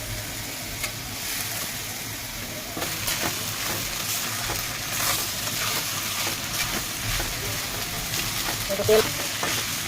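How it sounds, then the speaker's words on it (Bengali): Constant sizzling of chopped onions, chillies and ginger frying in oil in a pan, with occasional stirring scrapes and clinks, close and fairly loud. "তেল আর পেঁয়াজের সাথে ভালো করে ভেজে নেব।"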